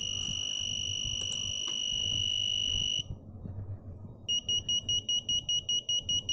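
An Arduino active buzzer gives a steady high-pitched tone, falls silent, then beeps in a regular pattern of short on-off pulses with longer gaps, close and loud.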